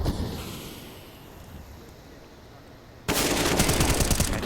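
Gunfire in Counter-Strike on the Vertigo map during a professional esports match, a rapid burst of automatic shots cutting in sharply and loudly after a quieter stretch of game ambience.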